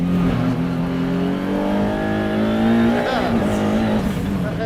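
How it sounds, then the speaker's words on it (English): A McLaren track car's angry engine revs hard and loud while its tyres spin and scrabble for grip, the tone climbing and sweeping as it accelerates. Someone talks over it. "the engine is so angry. You can feel it lighting up the tyres."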